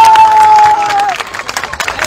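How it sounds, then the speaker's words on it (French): Crowd at a morning political rally of a youth movement in Côte d'Ivoire bursts into applause and cheering, loud and close, with a brief whistle-like tone early on and the clapping thinning out toward the end. "d'où votre présence ce matin que je vous demande d'applaudir"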